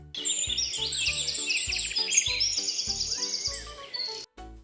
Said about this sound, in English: Birds say tweet,